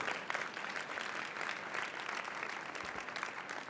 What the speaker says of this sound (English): Let's give her a round of applause for a wonderful year